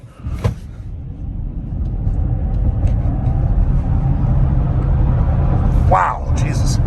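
A 2021 Polestar 2 electric car accelerates hard from a standstill, a steady loud low road rumble and cabin drone building and holding, with a brief voice exclaiming near the end.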